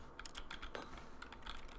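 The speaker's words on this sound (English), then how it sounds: "It makes clicking noises when I click my keys." Computer keyboard keys click in quick, uneven bursts of typing, close and fairly quiet over a low background hum.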